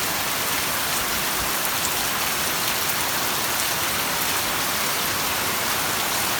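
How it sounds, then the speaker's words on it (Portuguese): Heavy rain pours down steadily outdoors during a downpour, a dense, loud, continuous hiss with no voices. "Olha a chuvada que tá caindo aqui."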